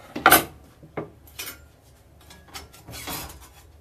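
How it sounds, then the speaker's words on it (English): A cutting board and a pan handled in a home kitchen while making chickpea flour cecina, a sharp metallic clank first, then a few softer knocks and scrapes spaced out over quiet. "I've got a cutting board here"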